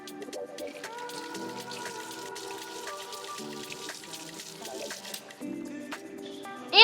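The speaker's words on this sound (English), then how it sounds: "I'm gonna rinse this off, okay?" Water is splashed on the face to rinse off a facial cleanser, heard as soft intermittent drips and splashes close by over a quiet tonal background.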